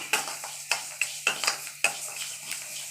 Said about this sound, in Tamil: இதில் 2 பெருங்காய கட்டி இந்த மாதிரி சேர்த்துருக்கேன். கருகீராமல் நல்லா மொறுன்னு வறுத்துக்குருவோம்.